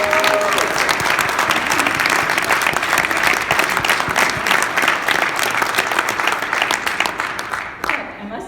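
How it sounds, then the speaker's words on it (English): An audience at an awards ceremony for volunteers applauds in a loud, dense, continuous round of clapping that carries on steadily and then tapers off at the very end. "And I think they all deserve a big applause."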